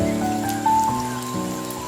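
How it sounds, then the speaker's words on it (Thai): Light rain in the Kamikochi mountain valley in Japan gives a steady, soft patter over a constant low tonal hum, with no speech. "โดยตอนแรกอะเหมือนมีฝนตกปล่อยๆด้วยนะ"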